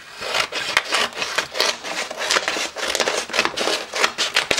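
A piece being cut from a roll of vinyl stencil film, rapid rhythmic scraping and crinkling strokes, close and fairly loud, repeating steadily without talk.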